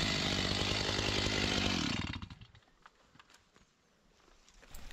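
A Stihl chainsaw with a freshly sharpened chain bites into wood, throwing big chips. It screams loud and close for about two seconds, then drops away to an idle sputter and quiet.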